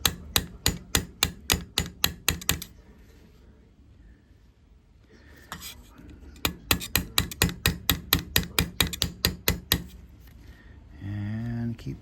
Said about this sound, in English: I'm going to use the very edge of the hammer here.